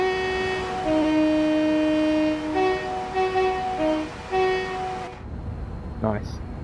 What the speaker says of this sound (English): Let's have a go on the horn.